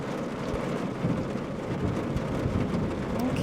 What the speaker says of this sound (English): And the rain intensifies.